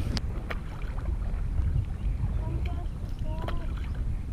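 Canoe paddles dip and pull on the River Severn between Bridgnorth and Bewdley, with water sloshing under steady wind noise and a few brief splashes.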